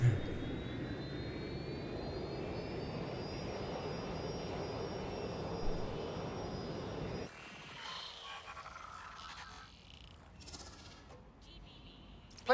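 A rerouted airliner flies in the video game Watch Dogs: Legion as a steady, moderate jet-engine drone with a faint high whine. After about seven seconds it cuts to quieter, thinner ambience.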